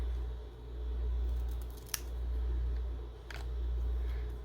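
Scissors cutting through a sheet of stickers, a couple of sharp snips standing out close up over a steady low hum.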